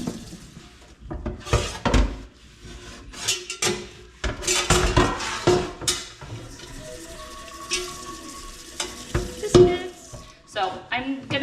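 A cast iron pan is scrubbed with soap at a sink, giving irregular bursts of scraping, clanking metal and splashing water, close and fairly loud, separated by short pauses.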